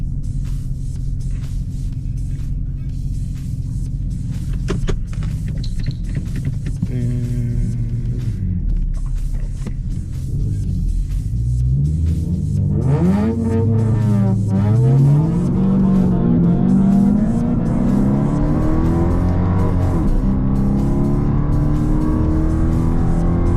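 A 700hp Ford Mustang GT drag racing, with a loud, steady engine roar that climbs in pitch as it accelerates hard through the gears, heard close from inside the car with no talking.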